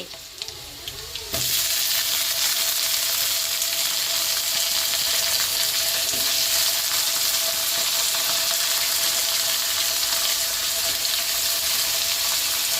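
Chana dal and brinjal pieces sizzle steadily in a hot pan after an initial quieter moment, a loud continuous frying hiss that fills the clip without any voices.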